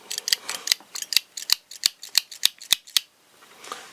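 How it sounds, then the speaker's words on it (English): Wire cutters and long-nose pliers on an Ozark Trails multi-tool snapping shut, about a dozen crisp metallic clicks in a quick, fairly even rhythm, close and alone, followed by a brief pause and one faint final click. "The wire cutters are closing all the way."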